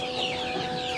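Sentul native chickens cluck and chatter steadily on a farm, a close, continuous flock sound with no voices.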